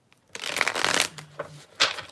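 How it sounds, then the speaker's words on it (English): Tarot cards shuffled by hand up close, giving a few quick riffling bursts of papery flutter, with no talking. "I feel like I can't stop shuffling these, y'all."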